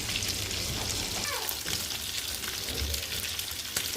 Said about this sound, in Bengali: এই যে উল্টে পাল্টে মাছগুলো ভেজে নিলাম